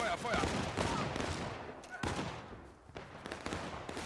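Volleys of musket fire crackle in a line-infantry battle video game, several ragged bursts of overlapping shots over about four seconds amid background battlefield noise and shouted commands.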